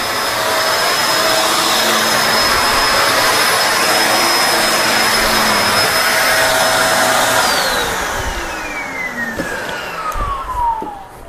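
A Kenmore Allergen Seal vacuum cleaner roars steadily at close range, then its motor pitch winds down as it shuts off, leaving a fading whine and a few bumps.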